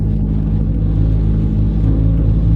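A car engine held on the handbrake with the throttle kept on, producing a loud, steady low rumble that drones continuously without pause.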